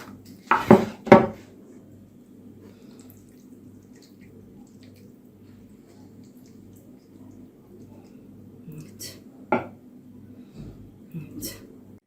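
Meat-sauce spaghetti being served onto a serving plate, with two clattering utensil clinks at the start and a few lighter taps and scrapes later over a quiet background hum.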